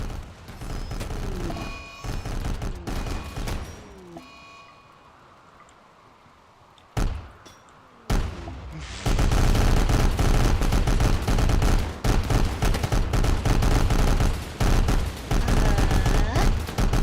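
Rifle gunfire in a video game comes as rapid, loud, close shots in a dense fusillade. There is a quieter lull partway through before sustained firing resumes.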